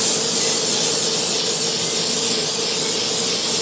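Steady, close hiss of a spray being applied over the top of pizza dough in a pan, continuous and fairly loud for a few seconds with no pauses.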